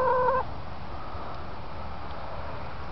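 Backyard chickens give a short burst of clucking at the start, fairly close, then only a steady hiss of outdoor ambience follows.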